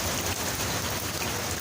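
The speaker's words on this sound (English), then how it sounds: "this is the start of our hurricane or tropical storm" Steady, dense rain pours down at the start of a hurricane or tropical storm near Tampa Bay, a constant loud hiss of drops on surfaces without any voices.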